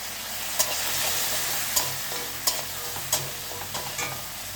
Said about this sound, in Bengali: এর মধ্যে দিয়ে দিচ্ছি ভেজে রাখা বড়িগুলো, আর দিয়ে দেবো একটু জিরে গুঁড়ো